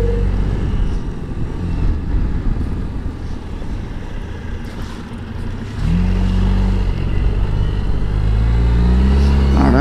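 A Suzuki Burgman 650 scooter engine pulls hard on an open road, its low drone rising in pitch as it accelerates, with heavy wind rush across the microphone throughout.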